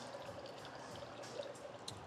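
Simple syrup of sugar and hot water poured into a cocktail mixer, a soft steady stream trickling for about two seconds, quiet and close with faint bar noise behind.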